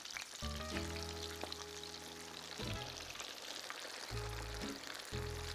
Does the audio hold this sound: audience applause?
no